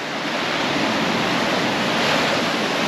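Ocean surf breaks steadily on Pensacola Beach in late September, a loud, continuous wash of waves that fills the whole clip with no voices and no pause.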